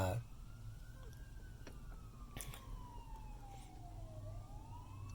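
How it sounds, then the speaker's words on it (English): Fire truck and ambulance sirens pass at a distance on a city street, faint rising and falling wails over low traffic rumble. "course there's sirens right now"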